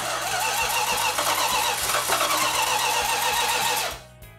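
A 1971 Dodge Demon 340 Six Pack V8 cranks steadily with the starter whirring for about four seconds without catching or firing, loud and close, then cuts off abruptly.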